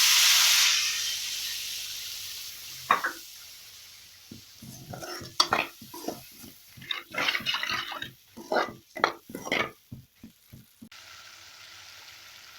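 Water poured into frying onion masala for egg varuval hisses loudly in a burst of steam, then dies down as a spoon stirs, scraping and splashing in short irregular strokes close by.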